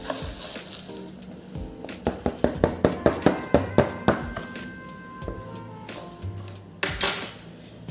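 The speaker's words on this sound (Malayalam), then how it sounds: "ഇതൊരു ഡബ്ബയിൽ നന്നായി ഷേക്ക് ചെയ്ത് കഴിഞ്ഞാൽ നല്ലതുപോലെ മിക്സ് ആവും" A mixture is shaken hard in a container to blend it, a run of about a dozen sharp rhythmic knocks and rattles close by, followed by a few looser clatters.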